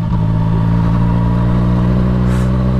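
Motorcycle engine running steadily while riding, a loud continuous droning hum with a faint rise near the end.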